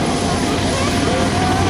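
A US Army UH-60 Black Hawk helicopter passes close by at an open house air show, its loud, steady broadband rotor and turbine roar filling the whole short span with an even, unbroken texture.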